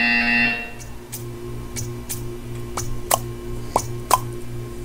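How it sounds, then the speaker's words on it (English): A short electronic buzzer tone sounds at the start in the video game Portal 2, followed by a series of soft plopping clicks spaced across the rest. "When you hear the buzzer"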